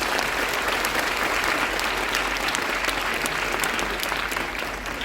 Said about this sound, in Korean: 우리 문영배 전 재판관님께 다시 한번 큰 박수 부탁드립니다